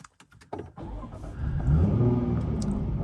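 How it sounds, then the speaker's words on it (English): A Jaguar F-Type's supercharged V6 starts on the push button: a few clicks, a brief cranking whirr, then the engine catches and rises into a loud revving flare before settling to a strong, close idle. "let's start the engine up and hear this beautiful supercharged V6 come to life"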